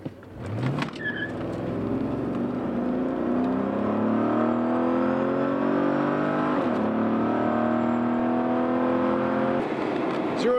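A stock-engine 1984 Porsche 928 with a Magnaflow exhaust roars from 0 to 100 km/h, pitch climbing in repeated sweeps with brief dips at each shift, loud and sustained with no talking.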